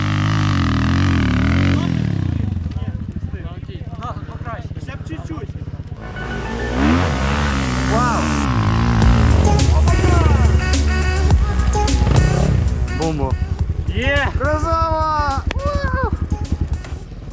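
Chinese enduro motorcycles riding down a hill, engines revving and rising in pitch, loud and close, with clattering and people talking over the noise.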